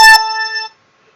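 Race timing software sounds its start tone: a single clean electronic beep, loud and steady, holding for about half a second before cutting off, with no voices.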